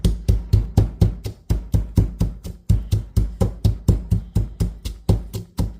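Ingredients for honey garlic salmon get pounded in a steady, brisk rhythm of close, heavy thuds, roughly three or four strikes per second, continuing without pause and without talk.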